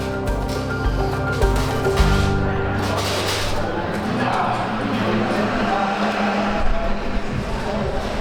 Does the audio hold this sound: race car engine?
yes